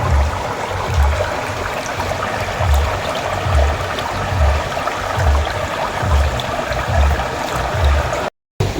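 Water flows steadily in an irrigation canal beside a pig pen, a continuous gurgling rush with a faint rhythmic low thumping, heard alone without speech and cut off briefly near the end.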